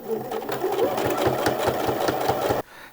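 A sewing machine stitches layers of a shirt yoke together, a close, rapid, steady mechanical chatter for over two seconds that stops abruptly.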